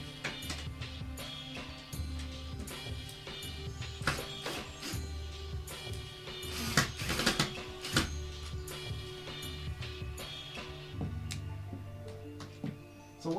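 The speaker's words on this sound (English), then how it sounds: "what I'm doing now is I'm unscrewing the bottom ones, letting it settle into its place, and then re-screwing them back in" Screws on a coffee table being unscrewed and then driven back in: a busy run of close, dense clicks, ticks and scraping rattles that keeps going with brief louder bursts.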